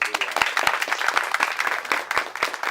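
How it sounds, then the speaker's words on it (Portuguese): Audience clapping for a guest at a Brazilian journalism talk, with dense, steady applause from a small crowd and sharp individual claps standing out. "Bater palma, e eu vou te aplaudir"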